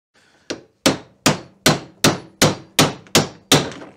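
A hammer strikes a pin in a VW Beetle pedal assembly nine times in a steady rhythm, each hit a sharp, loud metallic crack that rings out briefly, with no talking.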